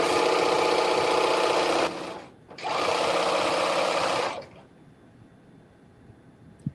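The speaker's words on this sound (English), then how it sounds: "I think this is the last edge, and then we will have serged both pieces" A serger overlocks a fabric edge for a caftan, running in two loud, steady, buzzing bursts with a short pause between, then stopping to near quiet.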